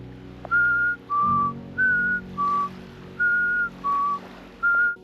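A person whistles to coax hermit crabs out on a deserted island: seven short, clear whistled notes alternating between a higher and a lower pitch in an even rhythm, close and alone with no talking.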